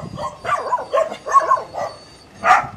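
Dogs on a farm in the middle of a river bark in a quick series of close, sharp yelps and barks, about six bursts with short gaps, loud and clear.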